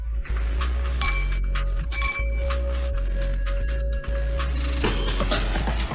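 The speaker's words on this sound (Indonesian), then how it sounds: "kita semua, ayo bersulang untuknya." Glasses clink together in a celebratory toast, several bright chinks ringing over a steady background hum, close and clear with no speech.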